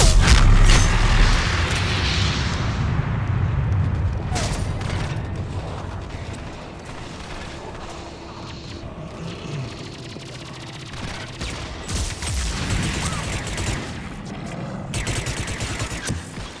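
Rapid-fire gun shooting in Mass Effect 3 on Xbox One, with loud dense bursts at the start and again near the end. Between them sit quieter mechanical clatter and booming game effects.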